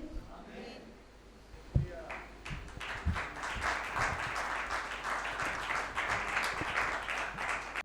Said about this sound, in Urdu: تالیاں بجاؤ